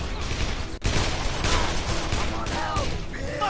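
Dense gunfire in the video game Call of Juarez: The Cartel, a loud, continuous burst of overlapping shots with a brief dropout near the start, with shouting mixed into the battle.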